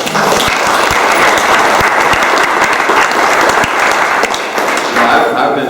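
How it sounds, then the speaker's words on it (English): An audience at a Jacksonville government task force meeting gives a sustained round of applause, loud, dense clapping that fills the room at an even level throughout. "thank them for their contribution with a round of applause"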